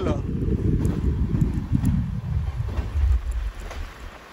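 Intercity train between Bengaluru and Tirupati running steadily, a continuous low rumble with wind buffeting the microphone and a few faint clicks, close and fairly loud throughout.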